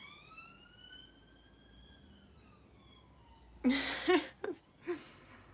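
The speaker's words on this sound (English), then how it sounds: "You're gonna hear another ambulance or something go past now." An ambulance siren wails faintly in the distance on a main road, its tone slowly bending as it passes, followed by a few louder nearby knocks.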